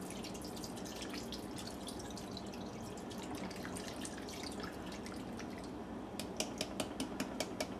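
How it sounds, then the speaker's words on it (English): Beer is poured into a pan while making corned beef and cabbage, a continuous fizzing, bubbling stream followed by a series of sharp drips near the end. "pouring in a sacrificial beer"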